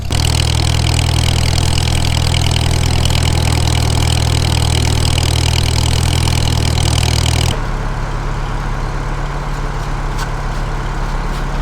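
A narrow front end tractor's engine runs close by, a loud, steady low rumble that abruptly drops to a lower idle partway through and keeps idling.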